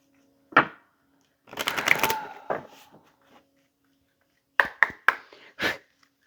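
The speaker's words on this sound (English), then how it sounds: "They're saying shuffle again, so let's shuffle again." Tarot cards being shuffled by hand, heard as a few short bursts of riffling and flicking, separated by pauses and fairly close.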